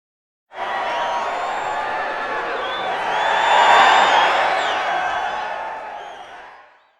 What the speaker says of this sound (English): What a great crowd here at Screwballs